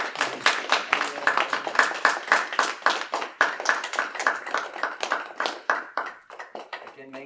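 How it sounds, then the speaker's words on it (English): Applause after a devotional Bhakti night music performance: a small group clapping in a loose, rhythmic beat of sharp, evenly spaced claps, fairly close, tapering off near the end. "applause for the performance"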